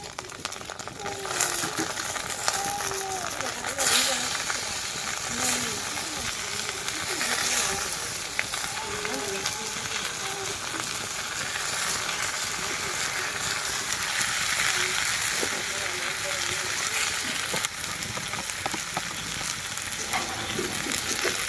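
Tomatoes sizzling in a pan beside an already fried egg, a steady hiss of frying with occasional stirring clatter, while a voice talks over it throughout.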